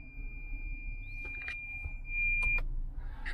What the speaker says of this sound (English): The parking sensors do work. That's what's making that beeping noise.